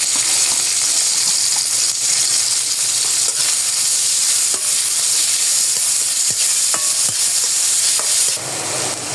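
Chopped onion frying in mustard oil, a steady loud sizzle and hiss with occasional clicks of a stirring spoon against the pan, continuous throughout and easing off slightly at the end.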